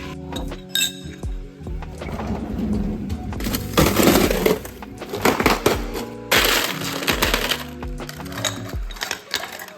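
Ice cubes dropped into a glass at close range, a busy run of sharp clinks, rattles and crunchy clatter in several bursts with brief pauses between scoops.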